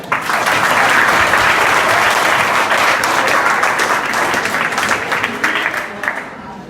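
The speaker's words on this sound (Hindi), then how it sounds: "अरे शाबाश, एक जोरदार ताली" A room full of schoolchildren at a school in Bhaduli, Azamgarh, Uttar Pradesh claps vigorously in a thick, continuous burst that gradually loosens into scattered claps, with some voices under the applause.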